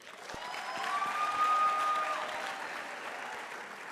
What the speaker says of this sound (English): Can we therefore give Reverend Siekoi one of the biggest rounds of applause?